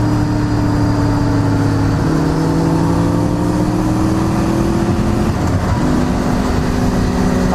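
A motorcycle engine on a weekend ride to Barmouth drones loudly and steadily as the rider pulls out to overtake, its pitch holding with slight shifts and a brief surge near the end.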